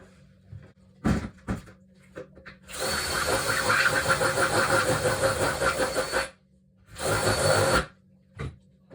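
A power drill whirs steadily for several seconds while shortening a kick drum, then again in a shorter burst, with scattered knocks and clunks before and after.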